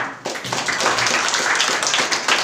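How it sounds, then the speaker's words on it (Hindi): A church congregation claps together in a dense, steady wash of hands, loud and close, continuing without a break through the whole stretch. "ताली बजाएंगे"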